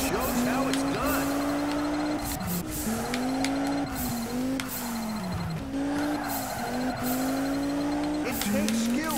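Race car power sliding in the Juiced 2 video game, a steady engine drone whose pitch sags and climbs with each slide, with brief tire squeals, while a voice talks over it.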